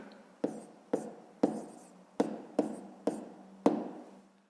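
Pen strokes writing out a fifth-grade math exercise, a division worked step by step: about seven sharp, evenly spaced taps and scratches, each fading quickly, close and fairly quiet with no talk.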